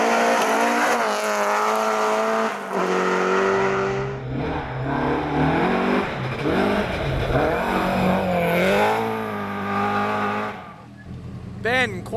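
BMW two-wheel-drive rally car pushed hard on a 31-kilometre gravel stage, engine roaring loud and close with revving gear changes and tyre noise, a commentator talking over much of it.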